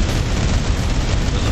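A frag grenade goes off in the shooter game Tacticool as a loud, dense boom that fills the whole stretch with heavy rumbling noise and no pause.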